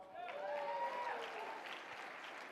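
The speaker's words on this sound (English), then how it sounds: "y'all can give Texas a round of applause" Faint, distant applause rolls through a CPAC 2019 conference crowd, mixed with rising whoops and cheering tones over a soft, continuous clapping wash.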